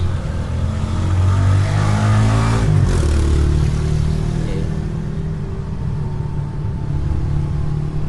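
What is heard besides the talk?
road traffic, cars and motorcycles passing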